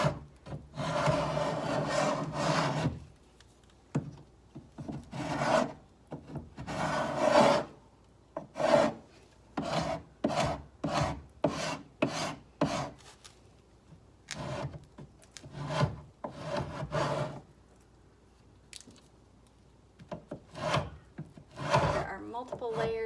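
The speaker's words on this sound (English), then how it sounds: "So I'm just going to put it in here and I'm just going to scrape off the paint." A carbide scraper strips old layered paint off wood in a long series of short, rasping scrapes, close and loud, spaced in irregular strokes with brief pauses between them.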